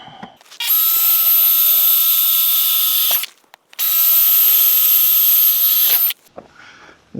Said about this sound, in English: I forgot to drill some drainage holes